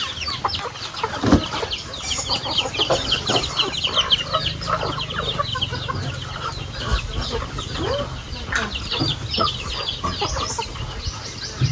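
Chickens cluck and chatter in a busy, continuous flock while being fed on a rural afternoon in the province, with a few scattered louder calls and soft rustling underneath.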